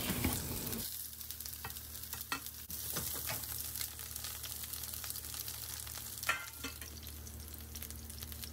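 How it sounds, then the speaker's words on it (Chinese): Bitter gourd pieces fry in oil in a hot wok, a loud, continuous sizzle with scattered pops and occasional scraping knocks as they cook. "烧热个锅，放适量的油，把刚才晾好的苦瓜煎成两面黄"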